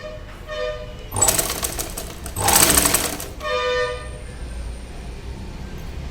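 A sewing machine stitching a plain blouse, running in two loud, fast bursts separated by a short pause, then a quieter stretch of mechanical whirring, close up with no talking.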